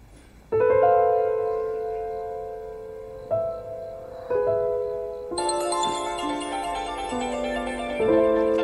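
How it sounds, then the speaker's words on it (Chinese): A phone ringtone plays a melodic chiming tune, clear and close, with several bright sustained notes changing in steps. "手机响了。"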